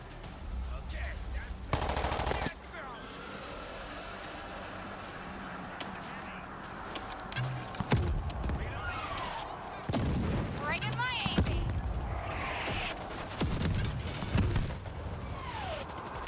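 Mounted machine gun in the World War Z video game fires in several rapid bursts amid gunfire and explosions, with zombie-horde chaos in between and occasional game voices.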